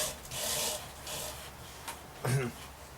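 Wood turning on a lathe, a gouge cutting a piece of wood in several short rasping, scraping passes with pauses between them, fairly quiet and close, with no talking.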